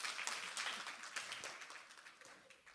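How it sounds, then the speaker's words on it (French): Audience applause at a deeptech startup conference in Rennes, a short burst of clapping that starts strong and gradually fades over a few seconds. "Je pense qu'on peut l'applaudir même s'il n'est pas présent avec nous."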